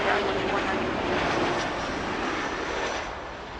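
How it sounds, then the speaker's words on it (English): A CRJ 900 jet airliner arriving at Toronto airport gives a loud, steady engine roar that fades slightly toward the end, with voices heard alongside. "ACRJ 900 coming in from Minneapolis"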